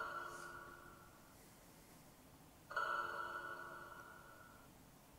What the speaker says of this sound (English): I want to apply some reverb